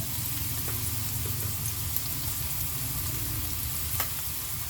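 Chopped onion and garlic fry in a pan with a constant close sizzle, with a few light clicks as they are stirred, and no one speaks.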